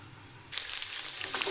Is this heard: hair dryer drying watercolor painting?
no